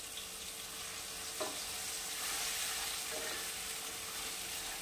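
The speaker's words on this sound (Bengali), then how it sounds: "এবার এটাকে ভাজতে হবে।" Three medium onions fry in a pan, producing a soft, even sizzle with faint stirring scrapes, quiet and continuous with no voices.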